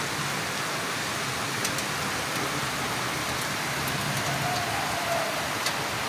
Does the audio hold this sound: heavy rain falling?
yes